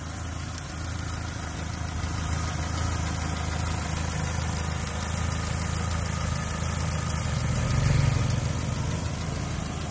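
A 2010 Daewoo Gentra SX manual-transmission car idles with its hood open, giving a steady, even engine hum with light mechanical ticking at close range and a brief swell near the end.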